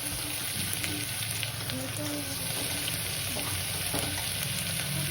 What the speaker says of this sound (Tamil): நெக்ஸ்ட்டு வெங்காயம் போட்டு வதக்க போகிறாங்க